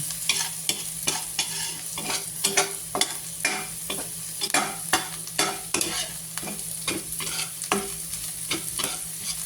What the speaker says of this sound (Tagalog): Ayan na po ang ating bawang, luya, at sibuyas at may sili.